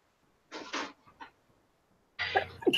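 A single sneeze-like burst of breath near the microphone, followed after a pause by another rough throat sound, in an otherwise quiet room.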